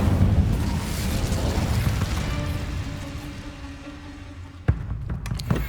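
Incendio fire spell cast in Hogwarts Legacy: a dense, roaring burst of flame sustained for several seconds and tapering off, then a sharp, loud crack near the end followed by a few lighter pops.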